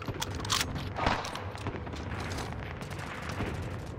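Rapid gunfire from automatic weapons in the Call of Duty: Modern Warfare video game, with dense bursts of shots and booms at close range, loud and continuous throughout with no talking.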